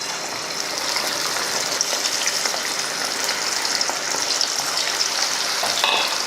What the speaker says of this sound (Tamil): இப்போ பொரிச்சு எடுத்துடலாம்.